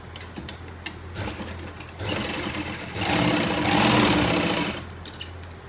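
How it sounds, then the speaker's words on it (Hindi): A sewing machine stitches the bottom hem of a palazzo pant, running in bursts that pick up speed into a loud, steady whir near the middle before easing off. It is close, with no voices. "हम यहाँ से अब सिलाई स्टार्ट करेंगे"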